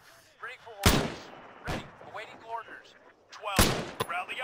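Gunfire in the military shooter game ArmA 3: three loud, sharp shots at uneven intervals, sounding fairly close, with faint voices and radio-like chatter between them.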